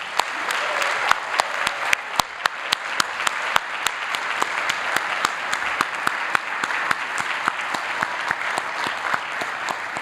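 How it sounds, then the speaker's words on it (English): Graduates and guests applauding at a business school recognition ceremony, sustained clapping from a large crowd with sharp individual claps standing out close by, continuing evenly throughout. "Give yourselves another round of applause."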